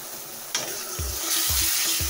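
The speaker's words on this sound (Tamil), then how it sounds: "நல்லா கொதிக்க ஆரம்பிச்சிருச்சு." Steady bubbling sizzle from tamarind paste boiling in a pan for puliyodharai, close and moderately loud, with a few soft low thumps recurring near the end.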